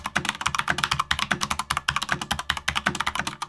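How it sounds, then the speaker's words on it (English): Rapid, steady typing on a mechanical keyboard with Cherry MX RGB Speed Silver switches, crisp clacking keystrokes close up with no voices. "This one has Cherry MX RGB speed silvers in them that sound like this."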